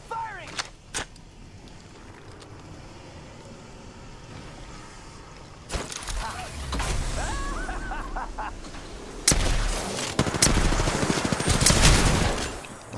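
Gunfire in the battle royale game Apex Legends: quiet ambience with a couple of early cracks, then several bursts of automatic fire that grow louder and denser, with faint voices and laughter mixed in.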